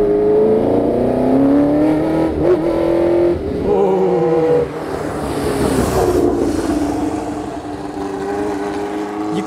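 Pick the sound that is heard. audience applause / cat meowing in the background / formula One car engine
formula One car engine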